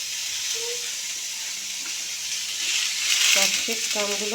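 Capsicum stir-fried in a pan sizzles with a steady, close hiss that swells louder partway through, with faint voice fragments near the end.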